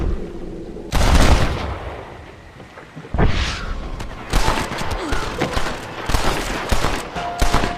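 Enemy gunfire in the Western video game Red Dead Redemption: loud bursts of shots and rapid volleys erupting repeatedly, close and heavy, with a rumbling background between bursts and no speech.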